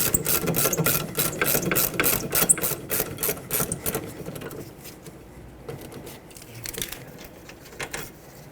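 Rapid ratchet clicking from removing rusty rear brake caliper bolts on a 2006-2010 Hyundai Sonata, loud and close in the first half, then tapering into quieter, sparse clicks.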